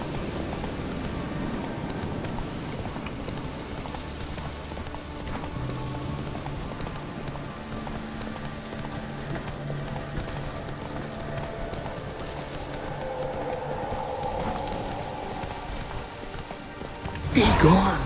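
Roach the horse galloping in The Witcher 3: Wild Hunt, with steady rhythmic hoofbeats on ground under ambient rustling and music, ending in a loud burst near the close.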